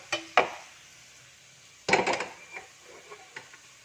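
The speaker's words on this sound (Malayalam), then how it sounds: "നമ്മൾ കുക്കറിൽ എടുത്ത് വെച്ചിരിക്കുന്ന അരി അങ്ങോട്ട് മാറ്റി വെച്ച് കൊടുക്കാം" A pressure cooker holding rice is set down onto a stove. Two sharp metallic knocks come first, then after a pause a short burst of clattering clanks that fade into lighter taps, all nearby in a quiet room.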